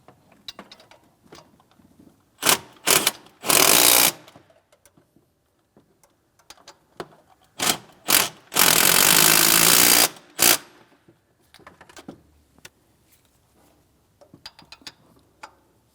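Ratchet wrench bursts snugging the two accessory drive belt tensioner mounting bolts on a 2007-2014 GMC Sierra 2500 HD 6.0L, loud close clicking runs of a few seconds separated by quieter handling noises.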